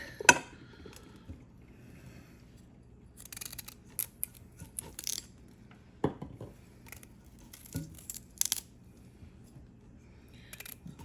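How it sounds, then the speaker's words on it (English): A knife cutting the hard, woody end off a vegetable in a home kitchen, giving a few sharp, isolated snips and cracks spread across a quiet background. "I'm going to cut the hard end off."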